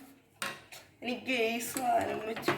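Kunafa mixture gets stirred in butter in a pan, metal utensil clinks and scrapes in short bursts, with a person's voice talking over the clatter.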